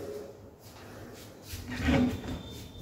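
Modular kitchen drawers slide open and shut with a soft wooden rumble and a firmer close near the end, heard nearby in a quiet room.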